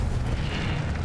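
An Incendio fire spell cast in Hogwarts Legacy lets out a short, heavy fiery burst with a deep booming rumble, loud and close, over about a second.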